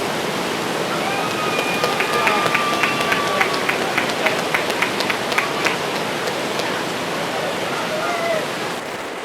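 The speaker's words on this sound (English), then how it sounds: "So apparently it is going to rain on our parade today." Steady rain falls through an outdoor high school graduation ceremony, a loud, continuous hiss with faint tapping on surfaces and a few brief tones in the background.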